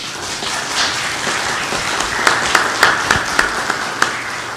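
A worship congregation applauds its veterans. Soft, diffuse clapping builds into a handful of sharp, distinct claps near the end, fairly close and with no talk over it.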